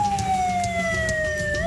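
An ambulance siren from a convoy escorting bodies home to family houses in the Cirebon region, a loud, steady wail sliding slowly downward as it passes close by, heard alone without talk.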